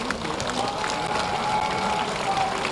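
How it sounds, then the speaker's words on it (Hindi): A standing crowd applauding to welcome Home Minister Amit Shah at a Lucknow event, steady dense clapping filling the hall throughout, with faint voices mixed in. "खड़े होकर तालियों से स्वागत कीजिए माननीय"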